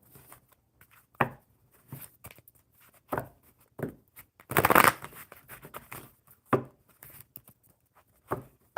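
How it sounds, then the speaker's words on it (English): Mermaid oracle cards are shuffled close by in quick riffling bursts, separated by light taps and shuffles, with one longer riffle in the middle. "Swifty, I'm going to shuffle the mermaid cards for you"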